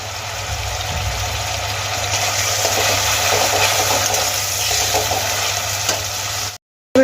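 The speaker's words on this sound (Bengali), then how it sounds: "আমি আদা আর পেঁয়াজ খুব ভালো করে ভেজে নেব" Onion and grated ginger frying in oil in a pan for a Bengali fish head curry, a steady close sizzle with faint stirring that holds evenly for several seconds before cutting off abruptly near the end.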